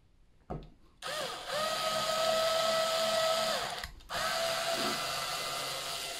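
Power drill driving screws into the hinges of a handmade wooden keepsake box, a close steady whirring motor whine held for several seconds, briefly stopping and restarting.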